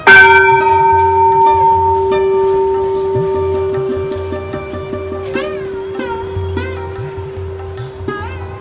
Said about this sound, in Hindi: यहाँ पे खूब सारी जो है बड़ी बड़ी घंटियाँ लगाई गई हैं, तो इन्हें बजा देते हैं